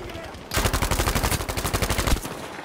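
A Tommy Gun SMG in Battlefield 5 rattles out one long, fast automatic burst of evenly spaced, loud, close shots lasting under two seconds, with a quieter game background before and after.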